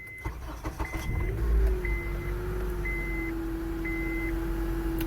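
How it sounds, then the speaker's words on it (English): A 2008 Honda CR-V engine cranks and catches close by, then settles into a steady idle, with a repeating electronic beep chiming at regular intervals over the running motor. "All right, let's start the truck."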